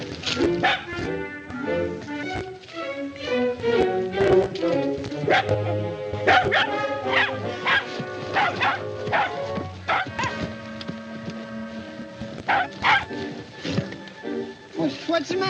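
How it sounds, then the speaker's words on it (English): A small dog barks and yips in quick, repeated bursts, excited and close, with whimpers between barks and people talking over it in an old film scene. "nice little doggy"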